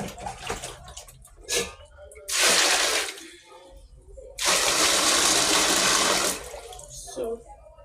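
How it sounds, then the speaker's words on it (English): Soaked maize pap being washed in water, with two long bursts of splashing and pouring, each lasting about two seconds, between quieter handling sounds and a voice speaking. "we are done washing our pap."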